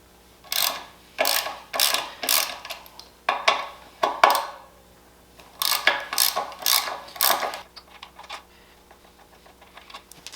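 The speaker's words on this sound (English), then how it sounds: "first I'm going to take off these two bolts that hold the caliper on" A ratchet wrench clicks in quick bursts of rapid ratcheting while the two front brake caliper bolts come off a 2004 Honda Rebel CMX250C motorcycle, with short pauses between strokes and no talk.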